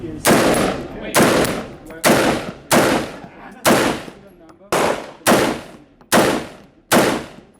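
A historic rifle fires nine loud, sharp shots at an indoor range, spaced roughly a second apart, each crack echoing and decaying in the enclosed room.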